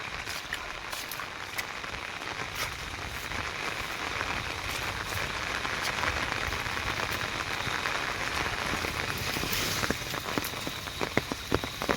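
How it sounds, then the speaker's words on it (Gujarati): Steady rain pours down over a damaged house with a collapsed rear section, a dense continuous patter with a few sharper drip hits near the end, no voices present. "ને વરસાદ હમણાં બી ચાલુ જ છે."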